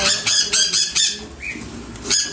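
A sun conure parrot squawks in a run of loud, harsh bursts, four in quick succession and another near the end, while being caught in a large cage, with a faint scuffle of wings between calls.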